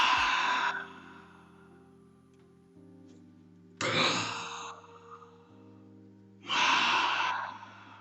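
Three deep breaths in a meditative rhythm-breathing practice, each a long, loud broadband exhale or sigh up close, spaced several seconds apart, with a low steady hum underneath.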